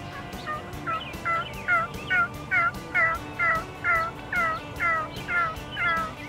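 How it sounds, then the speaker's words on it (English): A wild turkey gobbler gobbles repeatedly from its roost nearby, about a dozen rapid, rattling calls in a steady rhythm, clear and fairly loud over a soft outdoor background. "we got the attention of a gobbler"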